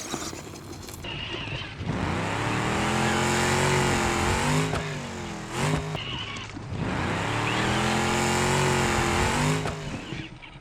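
A Team Associated MT12 RC monster truck runs at full speed, its electric motor whining in two long, loud rising-and-falling passes with a brief dip between, close by and with no talk.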